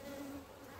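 Honeybees hum steadily around a swarm that includes male drones, a continuous close buzz with a steady tone that fades slightly partway through.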